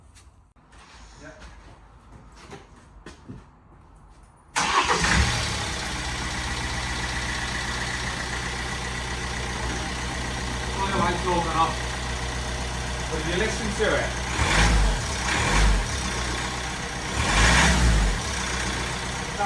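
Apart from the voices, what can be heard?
Hyundai ix35 engine starting and running noisily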